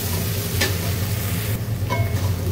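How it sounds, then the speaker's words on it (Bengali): Boiled chickpeas fried in a pan for chhola bhuna, a steady sizzle running throughout with a few brief scraping stirs, close and fairly loud, no talking. "একটু ছোলা ভুনা করে নিচ্ছি বিকেলে নাস্তার জন্য।"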